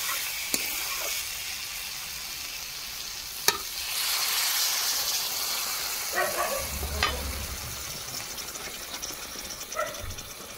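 Water is poured into a pan of fried potatoes and cooked spice paste. A steady sizzle and a couple of sharp clicks give way to a louder bubbling surge, then the sizzle settles again.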